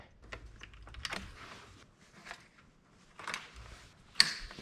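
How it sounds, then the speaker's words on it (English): A zip tie is tightened around a boost controller hose on a Subaru WRX, with scattered soft plastic clicks and ratcheting ticks in short bursts. A sharper snap comes near the end, faint and close, with no talking. "Now let's put it on to here with the zip tie"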